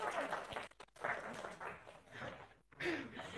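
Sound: audience applause

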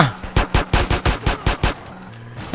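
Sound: gunfire in the video game GTA

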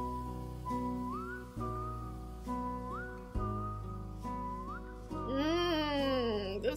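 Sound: whistle sound in a song

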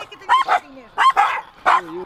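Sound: dogs barking

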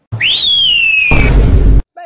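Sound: person whistling

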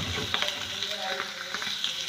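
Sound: mushrooms frying on low flame

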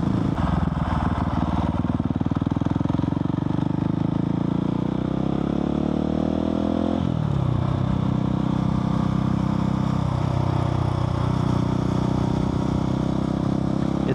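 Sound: Husqvarna 701 single-cylinder four-stroke motorcycle engine with Arrow exhaust

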